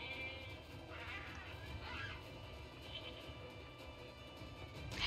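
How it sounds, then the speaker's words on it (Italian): Sheep bleat in the Nier Replicant video game, several wavering cries rising over a busy game soundtrack at moderate volume while someone talks faintly underneath. "Oh cavoli, ma c'è tutto un ponte qua di pecore."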